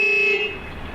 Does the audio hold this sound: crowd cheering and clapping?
no